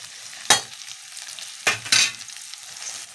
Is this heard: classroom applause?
no